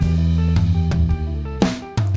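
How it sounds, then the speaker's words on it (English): Synthesizer part in a live band mix, a loud sustained harmonic tone over low bass notes, with chord changes and brief percussive hits cutting through over a couple of seconds. "Oh, there was a synth."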